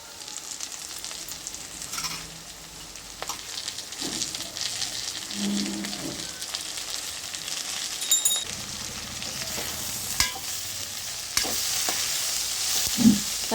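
Tomatoes fry in a pan of bitter gourd curry and are stirred, giving a soft, steady sizzle broken by scraping and clinking from the spoon, with a brief louder hiss near the end.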